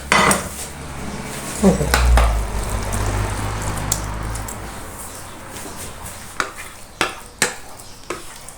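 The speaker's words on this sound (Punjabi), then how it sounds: "ਹੁਣ ਆਪਾਂ ਪਾਵਾਂਗੇ ਇਹਨੂੰ ਫਰਾਈ ਪੈਨ ਵਿੱਚ" Finely mashed carrot for gajrela is tipped into a frying pan with loud metal clanks and scraping, followed by a low steady sizzle and a few more sharp utensil knocks near the end.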